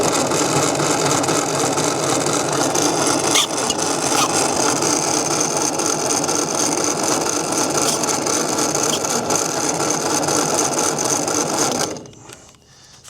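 An old Ferguson tractor engine, abandoned since 1971, cranked over on the starter with its spark plugs removed, a loud steady mechanical whirring churn running for about twelve seconds before stopping abruptly.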